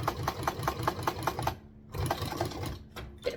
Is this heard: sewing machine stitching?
yes